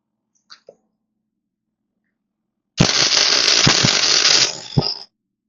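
A rub rail is tack welded in one sustained, crackling burst of about two seconds, preceded by a couple of faint clicks and ending with a short pop.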